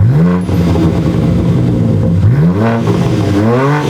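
A BMW G80 M3 fitted with an AWE track exhaust revs repeatedly, its loud engine note rising and falling in several sharp sweeps close by, with no talking.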